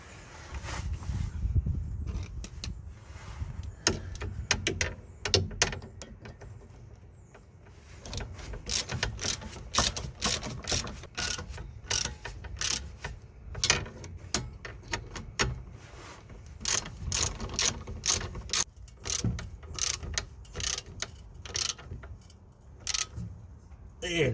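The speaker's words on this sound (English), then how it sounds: "now we're just gonna torque them up one by one" A ratchet clicking in quick bursts while torquing nuts on the rear brake disc splash guard of a 2005–2012 Vauxhall Zafira B, close and fairly quiet, with pauses and light metallic handling between runs.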